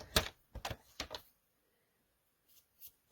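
A Memory Maker scoreboard cutter slices paper in a quick run of crisp clicks and snaps, then a pause before two softer clicks near the end.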